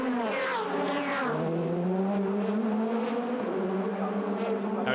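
DTM touring car at the 2005 Norisring, engine climbing hard through the gears out of the hairpin, a loud, close, continuous howl with rising pitch sweeps and a gearshift drop, commentary faintly underneath.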